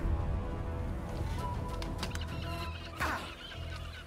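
Chickens in the video game Divinity: Original Sin cluck repeatedly over a dense game soundtrack, the clucks close and fairly loud, with a brief busier burst near the end.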